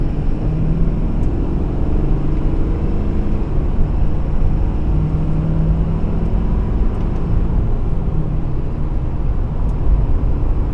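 A 2014 Ford Super Duty with the 6.7L turbo diesel accelerates in manual mode, a deep steady engine drone whose pitch climbs, then drops and resettles at a gear change midway, heard loud and close from inside with no talking.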